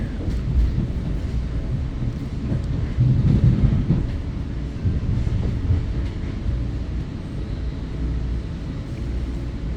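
An Exo commuter train runs between Dorval and Lucien-L'Allier stations in Montreal, its broad steady rumble and wheel noise filling the whole stretch from the inside.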